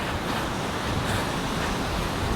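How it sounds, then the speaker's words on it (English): Calm ocean waves at Sanur Beach, Bali, wash steadily with a continuous, even surf roar and some wind rush, no voices present. "Nice and calm ocean also, nice for swimming."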